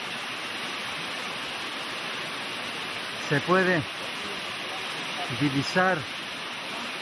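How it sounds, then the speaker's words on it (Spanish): A waterfall pours in a constant, broad hiss of falling water that fills the whole scene, while a voice speaks briefly twice over the steady rush. "a la mitad de la cascada."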